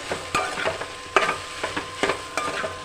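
Crushed garlic is stirred into okra and green chillies frying in a pan, with repeated scraping stirs and clinks over a steady sizzle, close and clear, with no talking.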